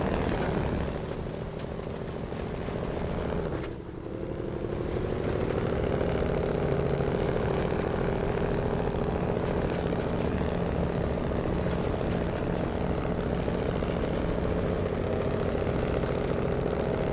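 A heavy Kenworth logging truck idles in SnowRunner, a steady low engine rumble with a deep drone that holds constant throughout, briefly dipping once near the start before settling back.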